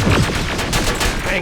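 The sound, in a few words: gunfire in video game Terminator Resistance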